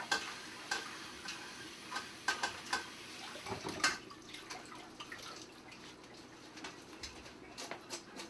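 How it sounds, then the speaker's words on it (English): Clams rinsed under water in a kitchen sink for stuffed quahogs, with scattered splashes, drips and shell clicks in a steady, close-up run. "I'm going to go over and rinse these clams off. I'm going to wash them."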